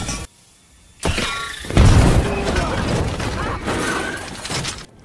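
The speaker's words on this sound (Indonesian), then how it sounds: "Tabung gas ini ditembak dan meledak" A gas cylinder is shot and bursts beside a car, flipping the car over: a loud broadband boom that rolls into sustained roaring, crashing noise for several seconds after a short quiet lead-in.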